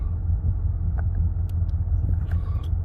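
A Ford F-150 pickup truck engine idles in a low, constant rumble, heard up close and unbroken for a few seconds, with no voices.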